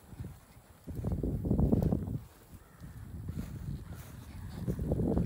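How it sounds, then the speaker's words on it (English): A horse walks slowly under a rider on a trail ride, its hooves clip-clopping in a steady, fairly close rhythm over light wind noise. "Slow it down, Si, because your horse is in control"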